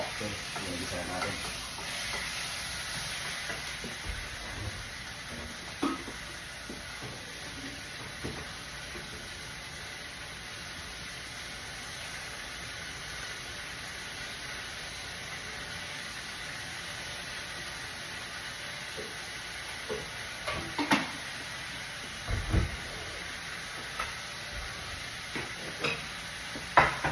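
Beef oxtail sautés in a pan with a steady, continuous sizzle at moderate volume, broken now and then by stirring scrapes and clicks. No one talks.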